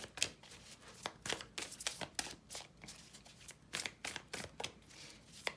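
Tarot cards are shuffled by hand in a steady run of crisp riffling and slapping bursts, close and fairly quiet, repeating with brief gaps throughout.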